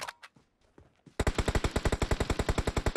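Rapid sustained bursts from an M249 machine gun in the PUBG Mobile video game, loud and evenly spaced, beginning after a second of quieter scattered shots.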